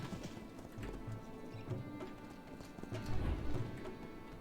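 A war horse mount trotting in World of Warcraft, with steady clip-clopping hooves at a moderate pace, fairly faint and without talk.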